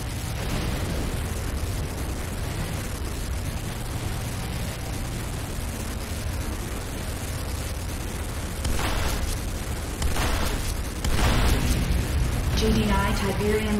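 Booming explosions and bursts rumble through a Renegade battle as Nod attackers destroy the GDI Tiberium refinery, a dense, loud roar with sharper blasts piling up toward the end.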